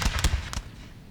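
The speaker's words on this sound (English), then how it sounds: "Now we got a unit of canister firing into the fleeing men." Canister-shot cannon fire in Napoleon: Total War: three or four sharp, booming blasts close together, then a quick decaying rumble, loud and close with no talk.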